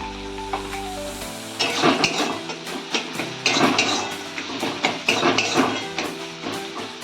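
Ground cumin, turmeric, chili powder and salt fry briefly in a pan while a spatula clanks and scrapes against the metal in quick, irregular strokes over a soft sizzle.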